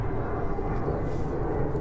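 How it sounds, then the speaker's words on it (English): An airplane flies overhead above a backyard container vegetable garden, a steady low rumbling drone that holds at constant loudness throughout. "hear the plane overhead. I just keep going till the plane passes by."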